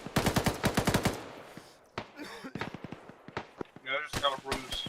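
Rapid gunfire from the Arma video game: a fast burst of close, loud shots, then scattered single cracks and shorter bursts, with a voice talking over part of it.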